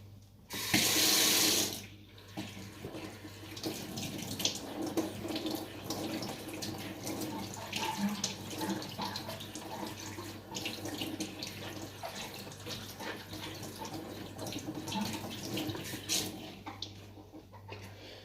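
A kitchen sink tap runs in a loud burst near the start while food is washed, then water splashes and trickles with handling clatter at a lower level through the rest.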